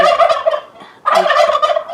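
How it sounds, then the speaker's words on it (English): Turkeys gobbling loudly and close by, two rapid rattling gobbles separated by a short pause, with no talk over them. "My turkeys have a lot to say."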